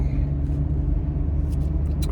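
Inside a car driving on the road, with a steady low engine and road rumble filling the cabin in a short, continuous stretch.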